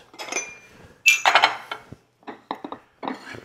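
Metal pot lids lifted off and set down in a home kitchen during French onion soup cooking, giving a few close, bright clanks and clinks in separate bursts with short quiet gaps between.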